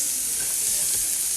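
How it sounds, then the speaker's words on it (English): Diced onions sizzling in a hot pan, a dense continuous hiss and crackle heard up close, steady and fairly loud throughout. "So let's get our meat in the pan. Okay, so to our hot pan, I'm gonna start with some onions."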